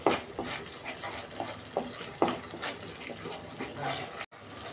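Stirring and frying in a pan after a little sugar goes in, with scraping spoon strokes and a steady sizzle, close and moderately loud, no talking.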